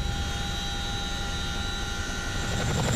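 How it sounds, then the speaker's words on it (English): A US Army Chinook tandem-rotor heavy-lift helicopter gives a loud, steady turbine whine layered over a throbbing low rotor drone, close by and continuous for the whole stretch. "The Chinook has been the U.S. Army's go-to heavy lifting copter since the early 1960s."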